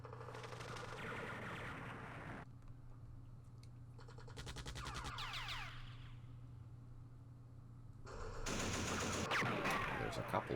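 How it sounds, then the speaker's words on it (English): Machine gun fire in the Campaign Series Vietnam war game at the Battle of Dak To, faint bursts of rapid shots from a distant hilltop, coming in separate clusters with quiet gaps between them. "There's a machine gun from the other hilltop."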